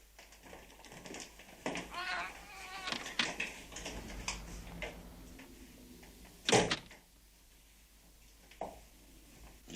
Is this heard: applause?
no